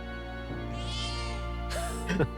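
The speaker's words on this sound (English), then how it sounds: "Kitty! Meow. Meow meow." A cat meows in the video game Metaphor: ReFantazio, a drawn-out mew followed by a brighter, rising meow near the end, heard clearly over a steady musical game backdrop with no talking.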